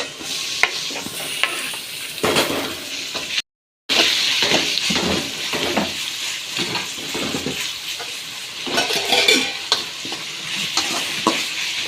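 Chopped tomatoes sizzle loudly in a hot pan while a spoon scrapes and stirs them in an irregular rhythm, heard up close with no talking.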